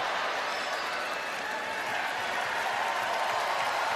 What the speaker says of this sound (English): getting the roar of this crowd